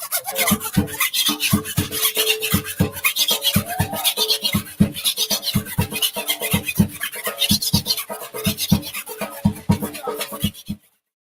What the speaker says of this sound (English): Then you must hold your scraper up and down and give you a different rhythm